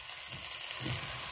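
Sweet potato leaves cooking in a hot pan, a soft steady sizzle close by with a light stir or scrape at the end, no talk.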